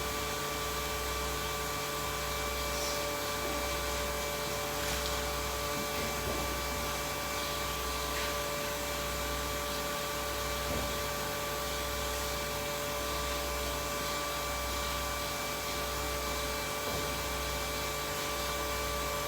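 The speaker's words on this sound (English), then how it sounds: "So I've got a little vacuum pump going" A small vacuum pump for carbon fibre vacuum bagging of wheel flares on a 1980 Toyota Hilux runs steadily, giving a constant, even hum and hiss with a low throb, unchanging and alone throughout.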